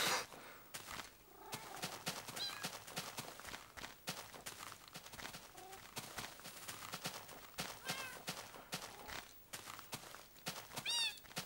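Minecraft cats mewing in a jungle area, several short meows scattered among rapid soft footstep clicks and blocky game effects, all fairly quiet.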